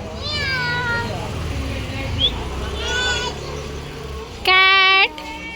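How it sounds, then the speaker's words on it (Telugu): A cat meows several times in short harmonic cries, the last one loudest and nearest, while voices and general household noise carry on underneath. "క్యాట్."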